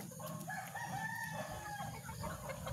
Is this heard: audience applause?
no